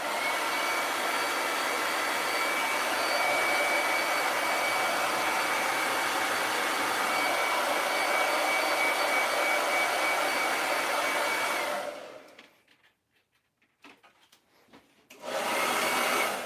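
A hair dryer blows steadily to dry chalk paste on a silkscreen transfer for a wreath craft, a loud continuous whoosh that cuts off abruptly, leaves a few seconds of near silence, then starts again.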